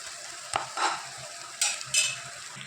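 Coconut pieces sizzle in a pan with a few sharp stirring scrapes and short bursts of crackle, close by and moderately loud, no voices.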